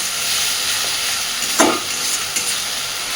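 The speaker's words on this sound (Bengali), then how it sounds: "মশলার কাঁচা গন্ধটা চলে যাওয়া পর্যন্ত সুন্দরভাবে মশলাটাকে কষাতে থাকবে" Masala for Bengali chicken kosha stir-fried in a pan, a steady close sizzle and hiss with a couple of louder scraping stirs partway through, no voices.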